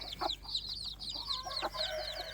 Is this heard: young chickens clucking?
yes